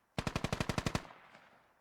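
A medium machine gun in the military shooter game Squad fires one rapid burst of about nine sharp rounds, followed by a fading echo tail.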